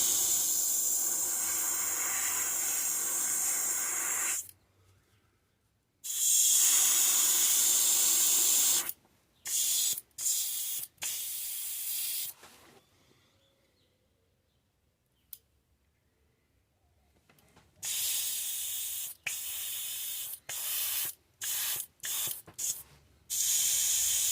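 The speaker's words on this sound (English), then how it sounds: "That's the only part about spraying this at a low PSI is it'll clog up your airbrush really quick." An airbrush sprays purple paint at low pressure, giving long bursts of steady hiss broken by several silent pauses and short quick spurts, close and fairly loud.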